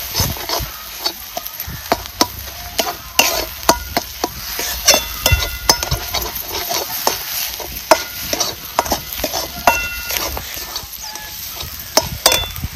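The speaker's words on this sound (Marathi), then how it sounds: "ह्याच्यात मिक्स केल्यानंतर मसाला चांगला असा भाजला जातो." Chicken masala with red chili powder stir-fried in a pan, a steady close sizzle broken by frequent sharp scrapes and clacks of the spatula against the metal, with no talking.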